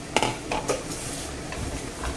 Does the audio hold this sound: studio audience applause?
no